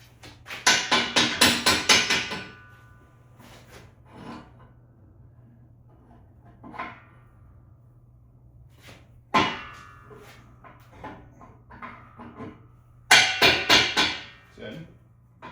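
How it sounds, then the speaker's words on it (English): Rubber mallet tapping a part back into place on a used pipe bender, several clustered knocks in bursts at the start, middle and end, with quieter single taps between over a low steady hum. "let's pop that back. Use a rubber mallet."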